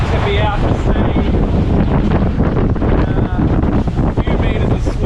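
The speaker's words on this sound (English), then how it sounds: "A few meters of swell and about 30-35 kilometer an hour winds, gusting sometimes beyond that." Strong wind buffeting an offshore fishing boat in a few meters of swell, gusts around 30–35 km/h, a loud continuous roar with microphone wind noise and rushing water, filling the whole stretch.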